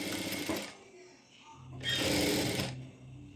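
A sewing machine stitches lining fabric in two short bursts with a quiet pause between them, the whirring motor close and fairly soft.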